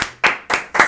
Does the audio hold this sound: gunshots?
no